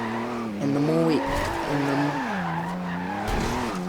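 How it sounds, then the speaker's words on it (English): A 2012 Porsche 911 GT2 RS with a 900 hp drift build slides in Forza Horizon 2, its tires squealing in long, wavering pitched skids over a steady engine drone, loud and continuous throughout. "So, we're already starting to drift."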